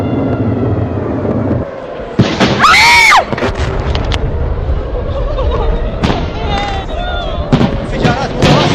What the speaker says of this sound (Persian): انفجارات متواصلة